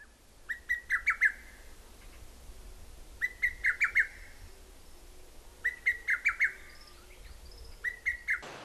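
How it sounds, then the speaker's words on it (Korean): Birds sing outdoors in rural Korea, one repeating a bright, trilled whistling phrase in four evenly spaced bursts, with fainter calls from other birds in the background. "새가 별새가 다 울다 뭐 우는 게 별의별 소리 다 하고 운다"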